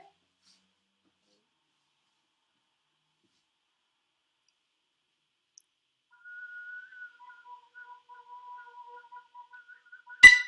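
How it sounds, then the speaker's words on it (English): Flute whistle tones from a contemporary flute duo: after long silence, faint, thin, pure pitches flicker in and out softly and intermittently, ending with a sharp close click. "one of us was playing the flute whistle tones, and I was playing the piccolo."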